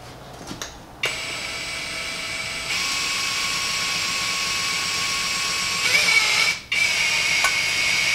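A cordless drill runs steadily, driving a pump that fills a VW Golf 3 gearbox with oil. The whine is sustained at a constant pitch, rises briefly in speed near the end, and is followed by short clicks.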